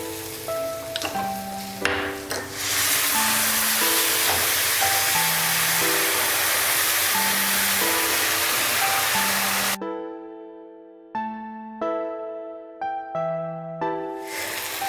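Tomatoes fry with a little water in a pan for a Katla fish curry, a steady close sizzling hiss under soft melodic background music that stops partway through, leaving the music alone.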